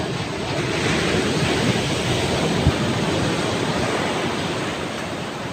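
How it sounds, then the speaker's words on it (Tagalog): Continuous roar of large typhoon-driven sea waves breaking on the shore during Typhoon Enteng, mixed with wind buffeting the microphone, with no speech. "dagat ngayon dito hindi makalaot ang laki ng alon"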